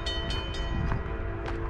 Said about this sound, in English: Kind of ran into this train.